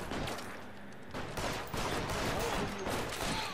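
Gunfire in the LA Noire video game, with rapid volleys of shots crackling over a dense, busy game soundscape throughout.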